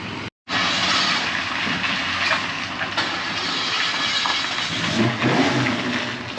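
A 1956 Chevy hot rod pulls away, a loud continuous engine roar that swells and holds steady after a brief cut at the start, with no talk over it.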